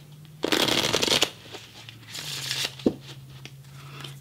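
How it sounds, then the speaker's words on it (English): A deck of playing cards is shuffled up close in two quick riffling bursts with soft taps and handling between them, fairly quiet over a faint background hum. "Okay, we will shuffle this again."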